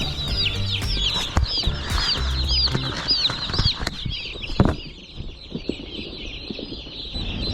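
Many live turkey poults clucking and squawking together in shipping boxes, close and busy, with wing flaps and rustling throughout; the flock quiets slightly toward the end.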